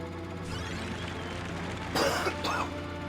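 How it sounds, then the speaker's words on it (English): A person coughs twice in quick harsh bursts close to the microphone, over a quiet background hum, with no talking. "Sorry, coughing."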